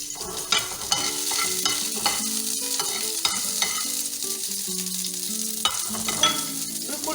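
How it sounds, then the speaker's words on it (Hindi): Finely chopped garlic and green chilies fry in hot oil in a pan for chicken 65, with a steady loud sizzle and repeated clattering stirs of a spoon against the pan, with no talking. "अब आपको इसमें लहसुन डालें, बारीक कटा हुआ, और हरी मिर्च डालें आप।"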